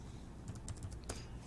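Quick light keystrokes on a computer keyboard as a search term is entered, a short cluster of soft clicks over a steady background hiss.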